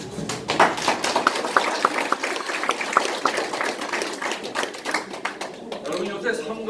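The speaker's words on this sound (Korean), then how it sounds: "이미순 회장님 박수 한 번만 쳐주시고" An audience at a Korean campaign office opening ceremony in Jeju claps briefly for a women's association leader, scattered hand claps mixing with talk from a speaker that runs over the applause.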